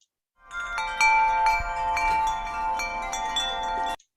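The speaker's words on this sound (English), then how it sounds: "That's the sound of the wind chime." Metal wind chimes ring out in a cluster of bright, overlapping tones, struck repeatedly and left to shimmer before stopping abruptly.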